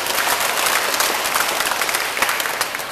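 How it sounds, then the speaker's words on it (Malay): Thunderous applause from a crowd at a Barisan Nasional political rally in Malaysia, a dense, steady roar of many hands clapping that holds loud and unbroken from start to end. "berikan tepukan gemuruh"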